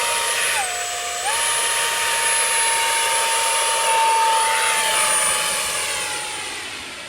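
A J Perkins MB 339 electric RC model jet, flown on a 4-cell 1800 mAh pack, passes with a loud, steady jet-like whine that dips briefly in pitch, then holds and slowly fades, with no voices.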